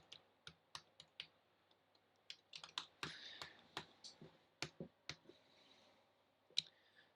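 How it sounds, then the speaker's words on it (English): Fingers type on a clicky Mac keyboard during a coding session, giving sharp, close, irregular clicks in short bursts with brief pauses between them. "Mac keyboards are so clicky, aren't they?"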